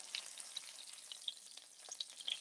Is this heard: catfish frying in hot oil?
yes